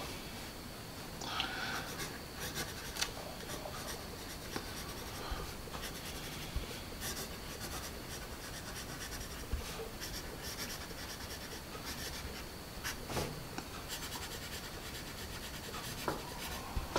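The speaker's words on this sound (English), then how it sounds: "let's do a little bit more writing, shall we? With our Palomino" Graphite scratching of a Palomino Premium HB pencil writing on paper, a long continuous close-up rasp with short strokes and occasional louder scrapes, with no talk.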